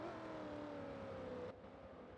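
A race car on the COTA circuit in Forza 7 drones at high engine pitch, its tone sliding steadily downward as it brakes hard for a turn, then the note cuts off, leaving a lower hum.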